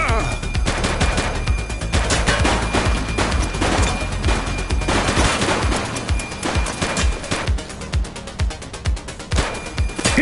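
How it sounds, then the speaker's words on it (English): A shooting suspect's gunfire in The Precinct police game, with dense, loud, rapid shots crackling continuously for about ten seconds, some bursts with heavier impacts, over a steady low rumble. "He's shooting!"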